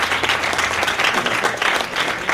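Steady audience applause at a drawing-team competition, a dense wash of many hands clapping continuously for a couple of seconds, fairly loud and close, with no voices over it.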